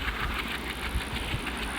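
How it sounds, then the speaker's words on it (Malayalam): A passenger train with nine compartments running at speed, heard from inside the driver's cab at the front, a steady low engine rumble with rhythmic thumps from the rails, continuous and fairly close. "നമ്മൾ ട്രെയിൻ കൊണ്ട് പോയിക്കൊണ്ടിരിക്കുകയാണ്"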